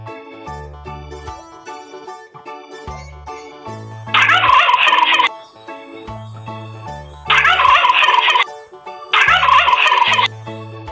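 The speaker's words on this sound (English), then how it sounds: "Turkey." A turkey gobbles three times, loud and close, each rattling burst about a second long with short low calls in between.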